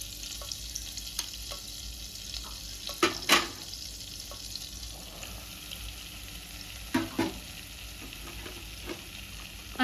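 Flour roasting in a little oil in a pan over a low flame, a soft continuous sizzle with a few sharp scraping stirs of a spoon.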